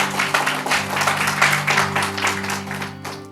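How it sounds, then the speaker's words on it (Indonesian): A church congregation at a women's worship service applauds in a short, dense burst of rhythmic clapping over a sustained organ or keyboard tone, fairly loud and close. "Beri tepuk tangan yang sungguh-sungguh buat Tuhan kita."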